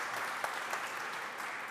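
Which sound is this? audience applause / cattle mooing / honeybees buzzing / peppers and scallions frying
audience applause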